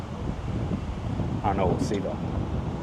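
Wind gusting steadily across Tiburon Golf Course, a loud, continuous rushing roar that buffets the microphone while a person talks briefly over it.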